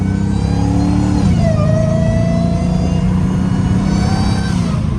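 A catless Hellcat Redeye revs hard nearby, its loud, deep exhaust roar climbing and holding while a high supercharger whine rises above it, with no talk.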